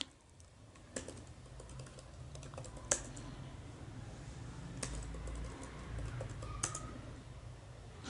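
Keys clatter on a computer keyboard as a new root password is typed, a quick uneven run of close, fairly quiet taps with a few sharper strikes standing out against a low room hum.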